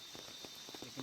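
Rain falls on a forest with a hillside stream nearby, a soft, constant patter of drops on leaves and ground, faint and even, with occasional slightly louder drips breaking through.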